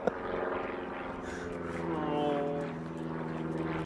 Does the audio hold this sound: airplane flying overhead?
yes